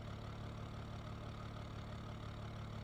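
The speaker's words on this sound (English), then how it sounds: "It sounds like a diesel." A gasoline car engine idles in the BeamNG.drive driving simulator, giving a steady, low, rough rumble with a diesel-like knock that holds even throughout, with no talking.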